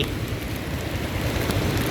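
Rain pours steadily at an Esso petrol station on Rama IV Road in Bangkok, recorded through a plastic bag covering the camera. It makes a dense, continuous hiss with soft patter throughout and no voices.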